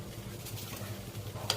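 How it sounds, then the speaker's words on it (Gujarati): Cardamom powder and sugar being stirred together in a pot for a temple offering, giving a soft, steady scraping and stirring sound close by with a slight sizzle underneath and one brief clink near the end. "ઇલાયચી પાવડર અને ખાંડ આગળ મિક્સ કરવાનું છે."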